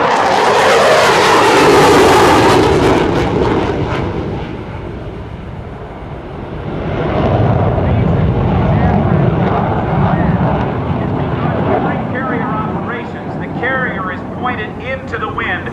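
A navy jet roars past at an airshow at NAS Oceana, loud and sustained with a sweeping rush that fades into a lingering rumble, under a commentator's voice.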